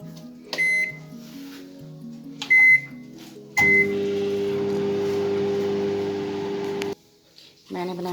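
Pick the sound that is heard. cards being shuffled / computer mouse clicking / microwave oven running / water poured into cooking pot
microwave oven running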